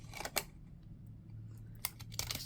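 A few sharp, close snips of scissors cut paper around a postage stamp, leaving a border, with a quiet pause between bursts and a low hum underneath.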